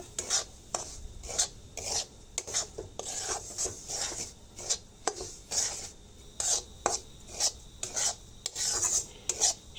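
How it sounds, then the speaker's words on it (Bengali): Semolina stirred and fried in ghee, a steady rhythmic scraping and rasping of a spoon against the pan, repeated strokes with a faint sizzle, close and moderately quiet. "প্রথমে আমি সুজিটা ঘি দিয়ে ভালো করে ভেজে নেব"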